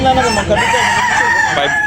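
A rooster crows loudly and close by, one drawn-out, warbling call that fills the whole moment.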